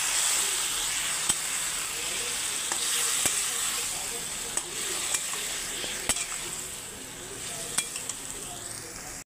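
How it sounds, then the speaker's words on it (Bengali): Curry masala for a rui fish curry with flat beans, potato and brinjal sizzles steadily in a pan after water is added, with scattered sharp clicks of a stirring spoon throughout. "আমি একটু আবার জল দিচ্ছি, জল দিয়ে আরও ভালো করে কষিয়ে নেব।"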